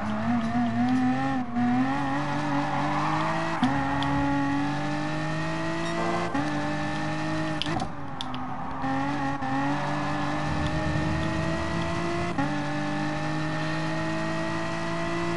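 Race cars in Gran Turismo Sport roar continuously, engines droning and shifting pitch as they brake hard and accelerate again, with tire noise, a loud steady wall of engine sound throughout.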